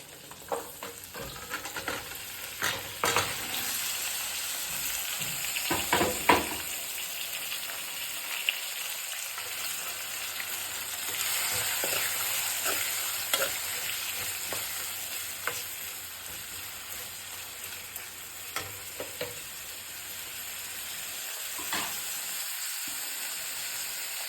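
Chopped chillies, turmeric, onion and tomato frying in hot oil for poha, a steady close sizzle with stirring clinks and scrapes throughout, no talking.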